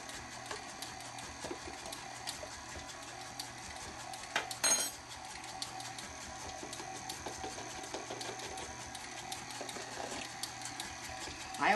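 Utensil clinks and scrapes against a mixing bowl as dry ingredients and buttermilk are worked into a batter, a steady, fairly quiet scraping with one louder knock partway through.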